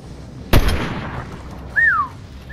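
A single sharp gunshot in a battle-royale video game, a loud broadband crack followed by a short decaying tail, with a rising-falling whistle-like game effect about a second later.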